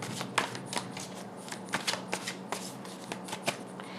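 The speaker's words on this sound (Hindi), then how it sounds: "सारे कार्ड्स ही गिर रहे हैं।" Tarot cards are shuffled by hand, with a run of crisp, sharp riffling slaps and flicks at an irregular rhythm. The sound is close and fairly loud, and nobody talks.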